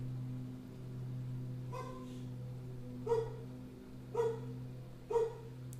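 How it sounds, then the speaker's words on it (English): A dog barks four times at roughly one-second intervals, the first faint and the rest sharper and moderately near, over a steady low electrical hum. "There's a bark."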